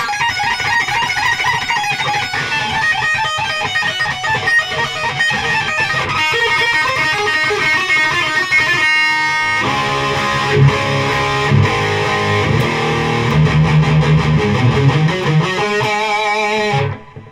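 Epiphone Les Paul electric guitar through a Seymour Duncan Distortion humbucker, played as a loud, heavily distorted riff with thick low end that runs continuously before cutting off abruptly at the end.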